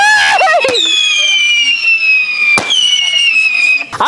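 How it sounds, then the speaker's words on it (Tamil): A Matrix missile firecracker fires loud, close shots: long whistling tones that glide downward, cut by sharp bangs about every one to two seconds, with voices nearby. "அடுத்ததான் வந்து மேட்ரிக் மிசைல நம்ம அடிக்க போறோம்."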